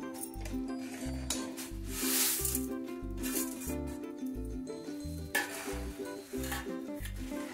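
Puffed rice is stirred into hot jaggery syrup in a pan, giving a scraping, rustling sound with a light sizzle, close by under rhythmic background music.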